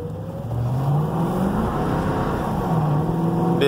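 A Ford Crown Victoria driving with its windows up gives a steady, close engine hum and road rumble that rises slightly as it pulls along, no talk.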